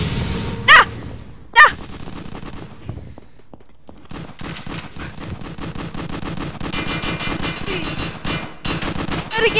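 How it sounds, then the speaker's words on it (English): Video game gunfire during a prison riot roleplay: two sharp shots, a brief lull, then sustained rapid automatic fire and bursts continuing to the end. "I'm gonna go toward the overwhelming gunfire."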